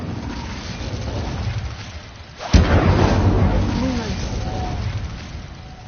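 An Incendio fire spell is cast in a video game, a sudden loud whooshing burst after a lull, then a roaring, crackling wash that slowly fades.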